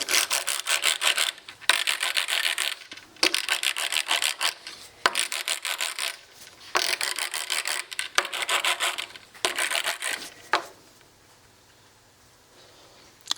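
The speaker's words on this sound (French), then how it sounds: "Maintenant, nous allons redresser chaque conducteur" An electrical conductor is straightened by working it with a wedge, producing repeated close rubbing and scraping strokes in bursts of about a second with short gaps, then a quieter stretch of faint handling at the end.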